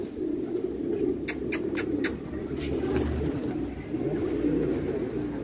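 Pigeons cooing close by in a loft, a soft continuous low murmur of calls with a few sharp wing flaps or perch knocks partway through, no voices.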